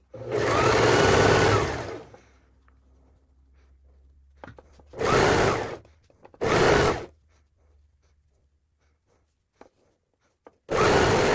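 A sewing machine stitches thin tricoline fabric in four separate bursts, the first about two seconds long and the others shorter, each a loud rapid whir, with quiet pauses between them.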